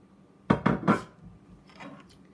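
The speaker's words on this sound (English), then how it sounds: "I'll spread the oil in the pan to cover up the entire pan" Avocado oil being spread around a pan for an egg-and-crackers sandwich: three quick clattering knocks of the pan and utensil close by, then a softer, faint scraping rub.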